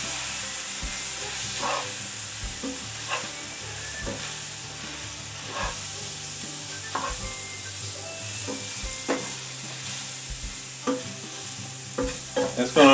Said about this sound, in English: I'm just going to mix that right in with the sausage.